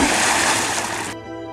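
A bird tumbles into a lake in an animated story, making a loud, broad watery splash that rushes for about a second and then cuts off abruptly into quiet.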